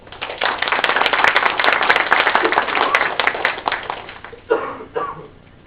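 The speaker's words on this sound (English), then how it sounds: "Let's give her a round of applause." Audience at a school D.A.R.E. graduation ceremony claps steadily as a graduate comes up, dense applause that thins out near the end with a couple of last scattered claps.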